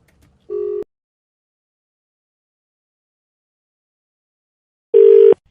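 Two short telephone tones sound while a doctor's number is dialled, one near the start and a longer one near the end, with silence between them and no voices.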